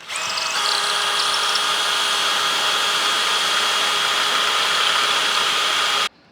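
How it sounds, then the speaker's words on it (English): A power drill pre-drilling holes in steel whines steadily at high speed for about six seconds, loud and close, then cuts off abruptly. "They're self-tapping, but we're still gonna pre-drill them."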